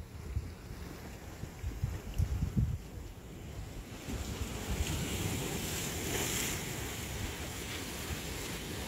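Ocean waves wash onto the beach at Apollo Bay as a steady, moderate surf roar mixed with gusty wind buffeting the microphone, and no voices are heard.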